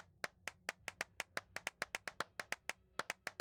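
Hands clap inside an abandoned church in a fast, steady series of about twenty sharp claps, each followed by a short reverberant tail in the empty space.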